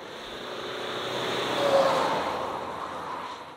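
A Mitsubishi Pajero Sport SUV drives around a test track, its engine and tyre roar rising to a peak midway and then easing off, steady and moderately close with no talk over it.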